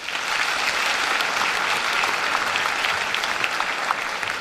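A high school graduation audience at Cumberland County, 2017, applauds art students with a dense, steady wash of clapping that fills the whole stretch at an even level.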